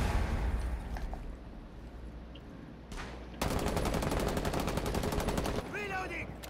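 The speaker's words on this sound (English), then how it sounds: "I'm shooting the fucking windows" Sustained automatic gunfire from a Rainbow Six Siege match, shooting out windows, a rapid dense burst lasting several seconds after quieter ambient action, with a short glassy chirp near the end.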